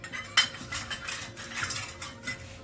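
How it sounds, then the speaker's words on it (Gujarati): Large metal serving ladles and spoons for dal and vegetables clink and clatter against each other in a quick run of bright, close metallic knocks, with one sharp clang near the start. "દાળ શાક પીરસવા માટે ચમચા ડોયા આ છે"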